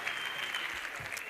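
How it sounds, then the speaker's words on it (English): An audience at a youth week event gives a round of applause, a short burst of steady clapping heard at moderate distance. "Please give him a round of applause."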